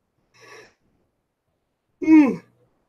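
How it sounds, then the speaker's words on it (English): A person yawns: a short, soft breath first, then after a pause a louder, voiced yawn that slides downward in pitch and fades out. "Now I gotta yawn again."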